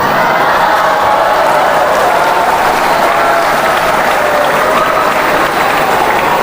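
School classmates applaud and cheer loudly as a dense, continuous crowd, with whoops mixed into the sustained clapping throughout.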